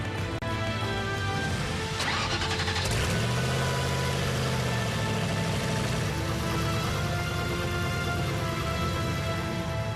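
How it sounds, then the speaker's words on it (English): A Gumpert Apollo supercar engine starts for the first time: a sharp mechanical clatter as it cranks and catches, then a close, steady idle with a rising and falling tone that holds on its own, with no voices. "We start the engine for the first time."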